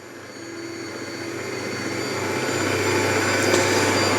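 A motorized pasta machine rolls fresh egg noodle dough on a wide setting, giving a steady mechanical whir that slowly grows louder over a few seconds, with no talking.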